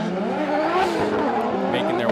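Formula Drift cars at Suzuka, Japan, a lead and chase pair including car 45, roaring continuously with engine drone and tyre squeal, loud and close throughout, with an announcer commentating over the top.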